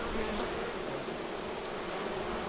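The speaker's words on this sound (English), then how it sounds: "there's a little bee coming out" A dense, steady buzzing of bees at close range beside hive brood where young bees are emerging, a continuous insect hum without pauses.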